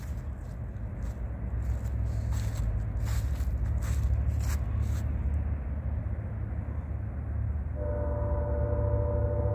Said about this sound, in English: You can hear him blowing the horn at Red Street.